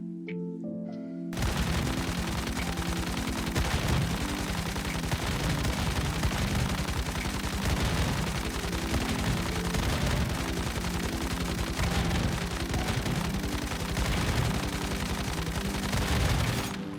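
A KVD Boom! Boom! light machine gun fires in the video game Once Human, with dense, continuous, loud automatic bursts that run unbroken for about fifteen seconds after a short quiet start.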